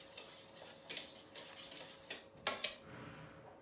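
Madeleine batter ingredients being mixed in a bowl, with a few faint utensil clinks and scrapes against the bowl at irregular intervals over a quiet background, with no talking.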